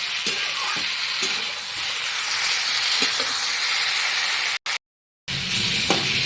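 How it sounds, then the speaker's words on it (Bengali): Pointed gourd (potol) fries in hot oil in a pan, a continuous close sizzling hiss with a few soft stirring knocks, cut by a brief dropout of silence near the end. "পটলটা আমি একটা ভেজে নিয়ে নিই"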